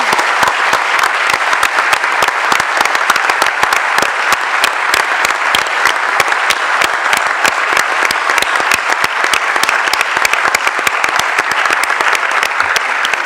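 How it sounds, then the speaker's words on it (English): Loud, sustained applause from a large conference audience for the organizing team at a sustainable development research conference, dense clapping continuing evenly throughout without talk. "If we could have a round of applause for the entire team,"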